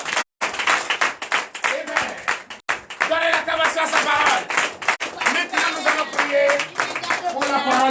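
A church congregation claps rapidly and continuously, loud and close, with voices and cheering mixed in throughout, at a service in Comè, Benin.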